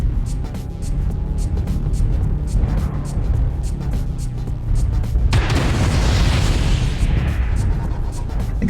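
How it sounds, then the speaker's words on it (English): A sudden heavy explosion in the Mechwarrior Online battle game breaks in partway through, a loud broadband blast that rolls on with a rumbling tail over a steady low mechanical drone. "I saw the explosion happen in front of me instead of in front of the enemy area"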